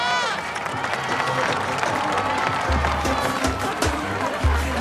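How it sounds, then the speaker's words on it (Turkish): A crowd at a lively family gathering claps and cheers in a steady wash of applause, with voices mixed in throughout. "Alkış!"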